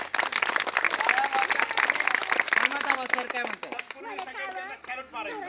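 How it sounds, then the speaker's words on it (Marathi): A crowd at a school farewell ceremony for a teacher applauds in a dense, sustained burst of clapping, with voices and chatter rising through it and taking over toward the end. "त्यांना आपण टाळ्या वाजून त्यांना आपण निरोप द्यायचा आहे"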